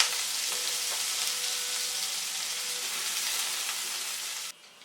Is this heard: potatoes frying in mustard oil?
yes